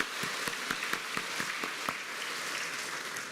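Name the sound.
congregation applause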